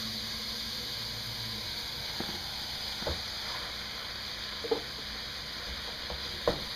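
Ground beef frying in a pan for lasagna, a soft steady sizzle with occasional light scrapes and taps of stirring, close but quiet.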